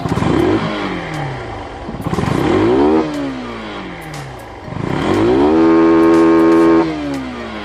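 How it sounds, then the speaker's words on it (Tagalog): A Yamaha motorcycle engine with a modified CDI revs hard several times, each loud rising roar falling back to a throbbing idle, the longest rev held near its limiter before dropping. "So try natin yung revs."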